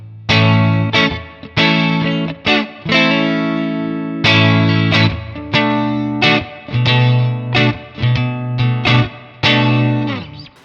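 An electric guitar plays strummed chords with a clean tone and a touch of reverb, loud and alone, each chord ringing briefly before the next.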